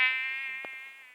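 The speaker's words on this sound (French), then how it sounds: "j'ai amélioré insecte, ça fait le bruit du moustique" A mosquito's steady high-pitched whine from the Plague Inc. game after an insect upgrade, loud and continuous for about a second with a brief click midway, no talking.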